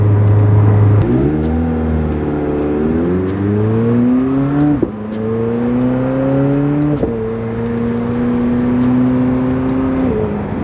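A McLaren sports car accelerates hard from up close, its engine note climbing through the gears with sharp breaks at each upshift, loud and uninterrupted.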